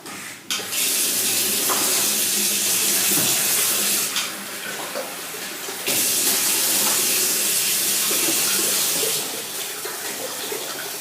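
Water is poured steadily into a small filter, a continuous loud splashing hiss that runs nearly unbroken, dips briefly twice, then carries on close to the microphone with no talk.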